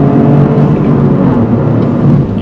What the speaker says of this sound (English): We got in third, hammer down.